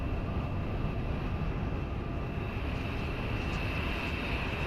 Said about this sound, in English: So here goes another one of the Lufthansa 321s.